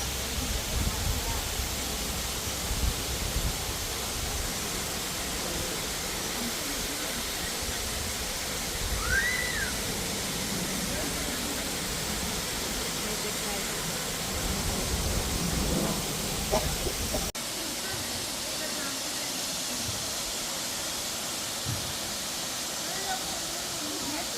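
A continuous broadband rush of falling water from Kurşunlu Waterfall fills the whole stretch, steady and loud, with faint voices and birdsong barely showing through.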